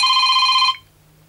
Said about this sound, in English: my phone ringtone and my contact ringtone